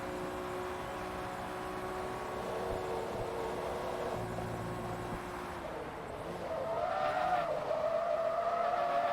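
Honda NSX-R race car in Forza Motorsport 2 with a steady engine drone, then a rising tire squeal in the last few seconds as the fronts lock up under late braking.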